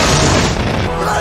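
Explosion of an electrical substation in a film, a dense, loud, continuous boom filling the whole moment with no pause.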